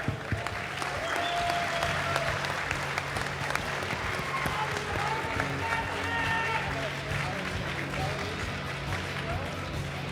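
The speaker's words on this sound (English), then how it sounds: "let's give these guys another round of applause" Sustained applause from a large crowd at the QuakeCon 2014 esports grand finals, steady and dense throughout, with voices mixed in.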